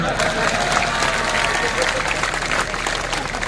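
A crowd at an Indian political rally claps steadily, a thick, even roar of applause that stays loud and continuous from start to finish with no voices standing out.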